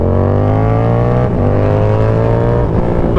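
A Yamaha R7 motorcycle fitted with an SC Project CR-T exhaust drones loud and close, its engine note stepping through smooth downshifts with no talk over it.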